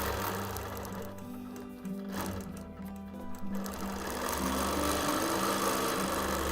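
A long-arm quilting machine hums and stitches steadily at close range, a continuous mechanical whir with a brief slowdown partway through.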